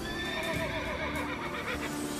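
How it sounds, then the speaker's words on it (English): A horse-like neigh and whinny produced by the robot dog K-9, a continuous wavering whinny over a steady background hum, with clip-clop-like texture and no speech. "K-9 is hovering over CCPC making a dog and horse noise"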